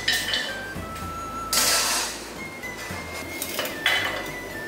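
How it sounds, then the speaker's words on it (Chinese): A large clay cooking pot is fetched in a home kitchen, with loud clattering and clinking of pots, lids and dishes being moved around, close and busy, with no talking. "请帮我拿个砂锅。"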